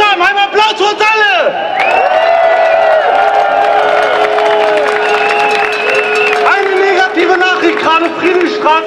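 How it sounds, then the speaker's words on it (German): A large outdoor crowd at an anti-Corona-measures demonstration in Berlin applauds, whistles and cheers in a loud, continuous wash, with a shouting voice and whoops riding over the clapping throughout. "Ein Applaus für uns alle!"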